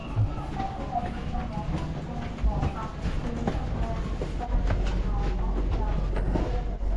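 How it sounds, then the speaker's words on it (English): A Vietnamese passenger train on the long north–south line rolls along with a continuous rumble and rattling, clattering carriage noise, heard from onboard, loud and steady throughout. "Let's check out the Vietnamese trains."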